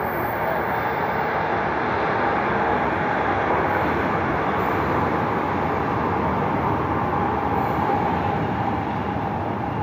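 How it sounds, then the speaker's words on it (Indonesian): A steady, loud rumble of a light rail train arriving at a station in Palembang, with broad continuous noise and no speech. "Oke teman-teman, keretanya sudah sampai ya."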